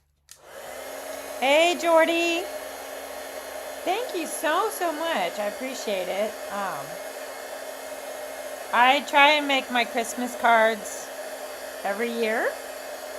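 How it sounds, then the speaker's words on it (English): A heat tool blows hot air over a watercolor Christmas card in a steady, continuous whir running through the whole stretch, while someone talks over it. "gotta do the heat tool."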